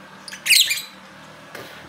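Pet birds let out a brief burst of shrill squawks, then fall quiet except for a short chirp near the end; no one speaks.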